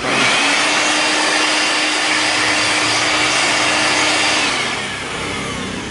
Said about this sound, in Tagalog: kailangan yung blower yan para matanggal yung mga likabok